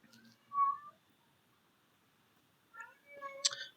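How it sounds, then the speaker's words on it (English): A pet cat meows in two short, fairly clear bursts separated by a quiet gap, the second cry longer and more agitated, with a sharp click near the end. "I just saw my cat start freaking out."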